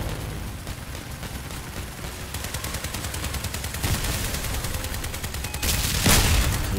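Video game gunfire crackles in dense rapid bursts, steady automatic fire that grows louder toward the end with a sharp, heavy blast near the close, and no talking over it.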